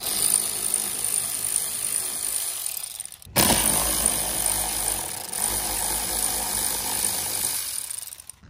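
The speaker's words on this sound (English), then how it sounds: "I'm gonna pop these bolts out real quick." Power tool removing bolts from the underside of a C8 Corvette during a rock and mud guard install, whirring steadily in two long bursts split by a short pause, close and fairly loud.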